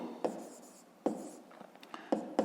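Pen writing digits on paper for a 5th-grade math exercise, heard up close and quiet: a few distinct taps and short scratchy strokes spread unevenly, with no voice.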